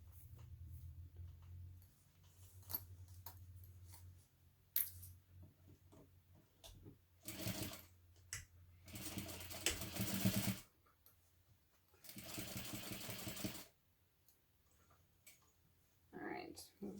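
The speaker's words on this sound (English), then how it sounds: "I'm putting my clips on again upside down so that I can sew from the other side directly over the stitching from the last step." A sewing machine stitches a fabric hobo bag in several short bursts of whirring, close and fairly quiet, separated by pauses with faint ticks and handling clicks.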